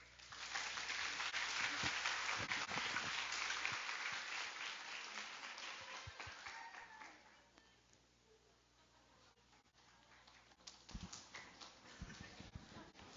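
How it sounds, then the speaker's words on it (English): An audience at the 2018 Jeju Youth Forum panel discussion applauds after a panel presentation. Steady, dense clapping fades out midway, and a smaller burst of claps returns near the end. "Let's give them another big round of applause."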